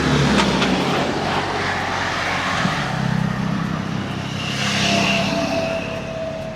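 Cars and motorbikes climbing the Stelvio Pass mountain road, a continuous rumble of engines that swells and fades as vehicles pass, with no talk.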